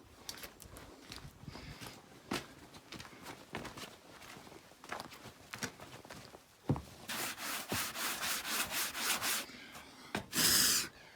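A Woodland Mills HM130 sawmill with a freshly sharpened blade cuts a birch, pine or fir cant into boards. A steady rasping cut builds after a stretch of scraping and thuds and runs loud and continuous, with a brief louder burst near the end.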